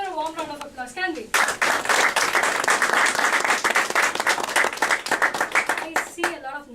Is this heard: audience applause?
yes